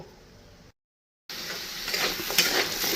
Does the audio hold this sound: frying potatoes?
yes